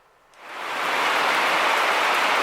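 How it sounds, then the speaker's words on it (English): Heavy rain from a sudden downburst swells within half a second into a steady, dense roar that pours on loud and close without a break. "that's some rain there."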